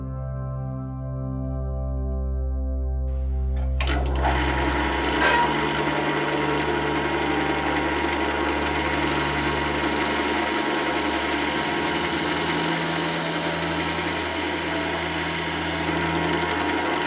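Wood lathe starting up and running steadily while turning the face of a Tasmanian wood bowl, a constant machine hum with broadband cutting noise that stays loud and unbroken for most of the clip, with no talking.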